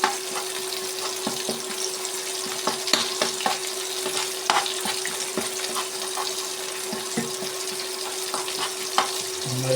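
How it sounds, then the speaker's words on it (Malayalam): Spiced masala fries in a pan beside sardines, giving a steady close sizzle with scattered crackles and scraping stir clicks throughout. "ഈ ബാലൻസ് മസാല ഒന്ന് ഫ്രൈ ചെയ്യാം"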